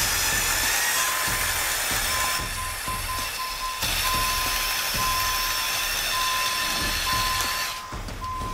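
A LEGO Technic 42099 off-road crawler with tuned motors grinds steadily as it attempts a 41-degree slope, a continuous whirring motor drone with a steady high whine that briefly changes intensity, with no talk.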